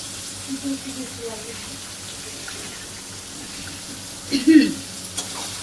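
Chopped tomatoes fry in a pan, a quiet steady sizzle with a few louder clinks and scrapes of stirring, the filling for potato chop.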